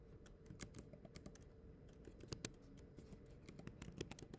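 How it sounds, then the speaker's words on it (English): Typing on a computer keyboard, a quick irregular run of light, close key clicks with no voices. "Type in your words."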